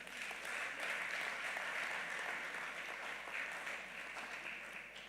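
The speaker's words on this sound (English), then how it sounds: "With a round of applause, shall we please welcome him?" An audience at a climate change and green economy week opening ceremony applauds to welcome a speaker, a faint, distant, even patter of many hands over a low steady hum.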